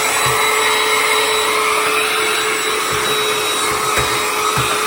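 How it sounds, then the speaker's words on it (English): A rechargeable vacuum cleaner runs steadily with a loud motor whine, a few soft bumps and knocks sounding underneath, no talking. "Nice vacuum."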